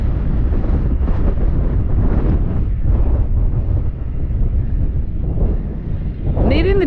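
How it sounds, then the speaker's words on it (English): Strong wind gusts buffet the microphone at the hilltop ruins of Morlais Castle near Merthyr Tydfil, facing the Brecon Beacons, making a loud, continuous rumbling roar with surges and lulls. "And can you hear that wind?"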